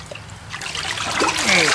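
A heavy, water-soaked deer hide being tanned drips and trickles as it is lifted, with water splashing and dribbling close by, growing louder toward the end.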